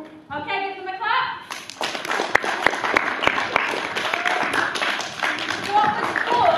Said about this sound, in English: Okay, give them a clap.